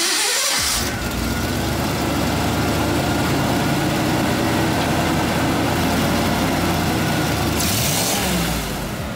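A Ford Bronco engine fitted with a Holley Sniper EFI runs loud and close, holding a steady, unbroken roar for the whole stretch, with no voices over it.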